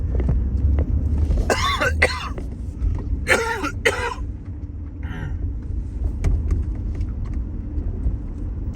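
Two bursts of harsh coughing close to the microphone, several coughs each, over a steady low rumble of traffic.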